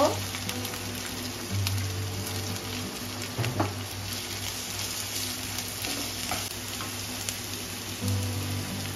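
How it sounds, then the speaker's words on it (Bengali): Chopped onions with ginger paste fry in a pan, giving a steady soft sizzle that runs throughout, with a few faint stirring scrapes over it. "পেঁয়াজটা একটু ভাজা ভাজা হবে।"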